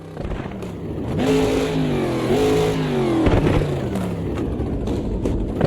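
A race car engine in the Automobilista 2 racing game revs loud and steady, its pitch climbing and falling through gear changes as it accelerates, sustained for several seconds with no talking.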